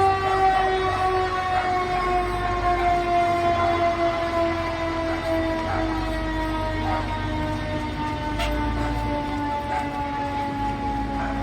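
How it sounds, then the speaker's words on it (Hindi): Fire truck and ambulance sirens wail together during an evening Halloween parade outside a mall, their steady tones sliding slowly downward over a rumbling street background, loud and continuous throughout. "फायर ट्रक और एम्बुलेंस इसी के लिए आई हुई है।"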